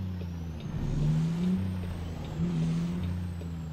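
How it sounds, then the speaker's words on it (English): Heavy truck in American Truck Simulator with a deep idling engine and a pair of hissing, whining air brake releases rising and falling, no talking. "I slam on my brakes just now."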